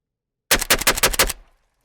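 An MDC-74 rifle in 5.45x39 fires a rapid burst of about seven loud, close shots in just under a second, followed by a short fading echo and silence.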